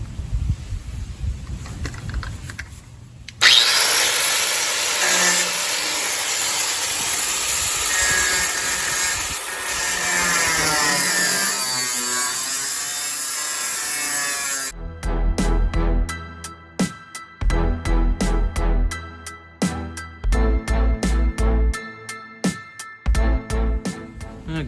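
A cutoff wheel slices through the trunk floor of a 1968 Pontiac Firebird, a loud high whining grind lasting about ten seconds. It then gives way to a rapid series of short, sharp mechanical bursts.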